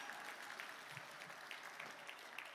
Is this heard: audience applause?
yes